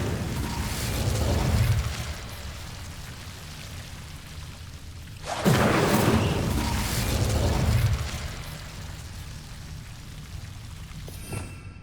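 An Incendio fire spell erupts in Hogwarts Legacy with a loud, close roaring whoosh of flame and crackling rush, swelling in two strong bursts over a steady noisy bed of fiery ambience.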